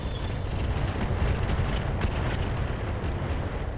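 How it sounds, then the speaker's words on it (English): Weapons fire in RogueTech, a mech combat game: a dense, continuous roar of booming blasts and explosions rumbles steadily for several seconds, loud and unbroken, with no speech. "The Orion is going to step up, and we're going to fire on that Nidhogg."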